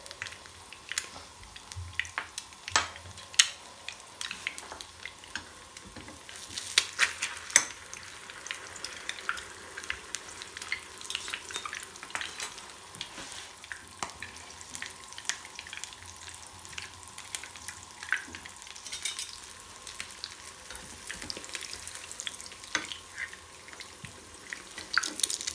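Eggs fry in a pan at breakfast, a soft continuous sizzle with scattered crackles and small pops, fairly quiet and steady throughout with no talking.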